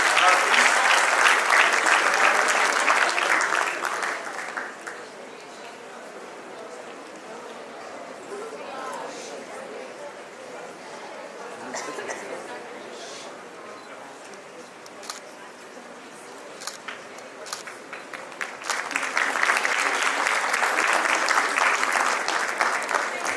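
An audience at an Army Welfare Education Society debate and awards event applauds the best debate speaker, loud clapping that fades into a quieter stretch of scattered claps and murmur before swelling again near the end.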